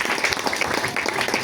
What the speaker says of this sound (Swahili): Pigie Bwana makofi.